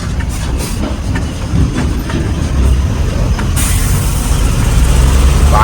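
A lorry rolls past on a busy highway bypass under road construction, a loud, close rumble of heavy tyres and engine that swells toward the end with a rattling, clattering undertone.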